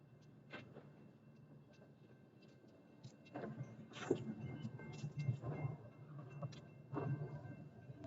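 A slow-moving northbound Union Pacific intermodal freight train at a road crossing gives off faint rumbling with scattered clanks and rattles that swell in the second half, heard from nearby.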